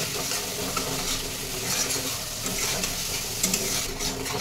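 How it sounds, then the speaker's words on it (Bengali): Spice paste with salt and Kashmiri chilli powder frying in a pan for a raw mango rui curry, a steady close sizzle with stirring scrapes throughout and no talk. "এই মশলাটা ভালো করে আমি কষিয়ে নেবো।"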